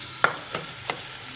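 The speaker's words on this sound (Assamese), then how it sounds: "এতিয়া মই আলুখিনি দি দিম ইয়াতে।" Boiled, mashed potato goes into a frying pan with coriander powder, turmeric and chilli powder for a shol fish recipe and is stirred: three soft scraping strokes over a faint, steady sizzle.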